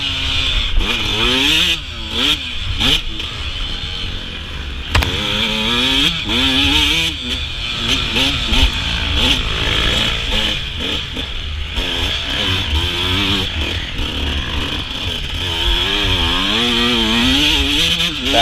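Dirt bike engines on a muddy motocross track rev and wail up and down in rising and falling sweeps, loud and continuous, with several bikes blending together at varying distances.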